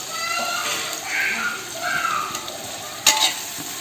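A pan sizzles and hisses continuously while a thick tomato and onion mixture for chicken biryani is stirred, with a brief scraping clatter near the end.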